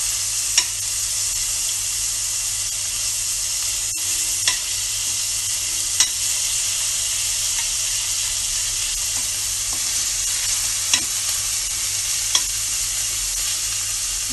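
Vegetables and finely chopped green chilies cooking in a pan give a constant bright hiss, broken by sparse, faint taps of a spoon at irregular intervals.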